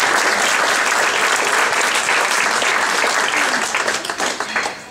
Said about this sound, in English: I think we owe them a big round of applause for the work they've done